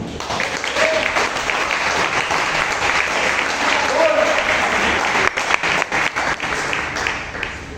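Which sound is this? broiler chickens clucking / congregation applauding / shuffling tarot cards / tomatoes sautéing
congregation applauding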